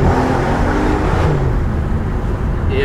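A BMW M135i xDrive accelerates hard, its engine roaring loud and steady from inside the car with a broad, continuous drone and no talk over it.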